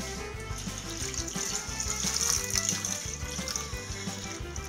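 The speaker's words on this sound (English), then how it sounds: "And we're gonna add a little bit of water." Tap water running steadily into a pot of cut onions for a Sunday roast, a continuous splashing pour heard close and alone, with no talk.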